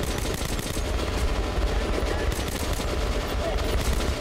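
Rapid automatic gunfire in Metro Last Light, dense overlapping bursts of shots rattling continuously at close range, loud and relentless throughout.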